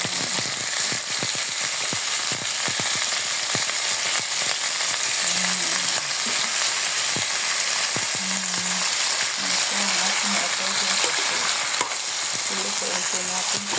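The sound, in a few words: squid adobo frying in a pan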